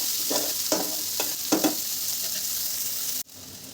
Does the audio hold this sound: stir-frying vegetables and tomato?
yes